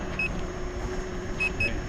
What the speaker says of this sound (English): You can hear the beeping going on